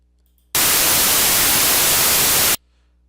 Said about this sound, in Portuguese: Vamos colocar 2 segundos de ruído branco para a gente conhecer o aspecto desse ruído.